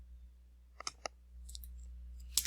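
Mouse clicks on a computer while working in accounting software, a few sharp, quiet clicks in an otherwise silent room, the last one slightly louder.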